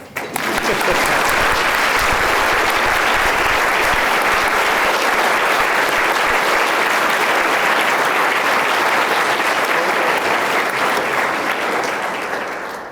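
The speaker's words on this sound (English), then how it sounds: "Now you may applaud." A large audience at an awards program for leadership finalists breaks into loud, sustained applause, a dense wash of many hands clapping that holds steady for about twelve seconds before tapering slightly.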